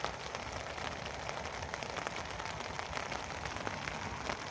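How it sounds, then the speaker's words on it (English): Heavy rain drums steadily on a tent pitched in the woods, a dense, even patter filling the whole stretch with no speech. "the rain's coming down quite heavy again"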